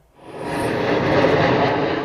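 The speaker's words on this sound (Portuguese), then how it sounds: "Pode parecer uma visão incomum, mas esse avião voando baixinho, a cerca de 10 mil pés" A small airplane flies low, around 10,000 feet, on an air-pollution measuring flight. Its engine makes a steady, loud, broad roar that swells in within the first quarter second and holds without pause.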